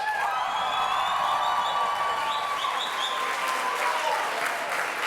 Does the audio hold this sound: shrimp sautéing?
no